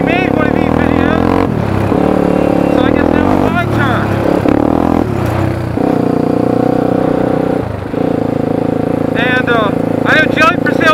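A Honda 300EX ATV engine revs loudly and close, its pitch rising and falling through repeated throttle blips, while someone talks over it.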